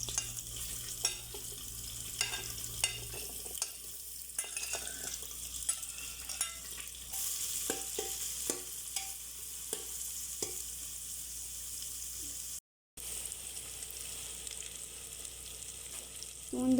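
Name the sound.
mutton shallow frying and sizzling in a pan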